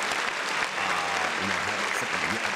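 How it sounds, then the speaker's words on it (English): Steady applause from a crowd, dense clapping throughout with some low voices murmuring underneath. "let me give a round of applause to SIFU real quick"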